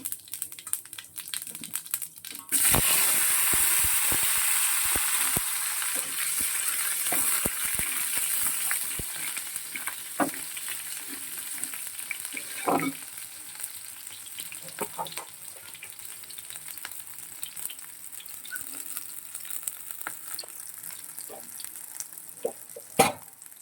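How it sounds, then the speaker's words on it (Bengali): Cumin seeds tempering in hot oil burst into a sudden loud sizzle that gradually settles into a softer crackle, with scattered utensil clicks and taps close by. "জিরে ফোড়ন দিলাম"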